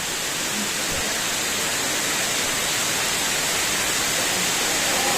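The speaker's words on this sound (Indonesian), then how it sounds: "Di situ ada air terjun lagi, saudaraku." Waterfall pouring over volcanic rock, a loud, steady, broadband rushing roar that fills the whole moment without letting up, with no talk heard.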